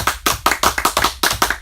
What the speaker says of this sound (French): C'est bien de s'auto-applaudir.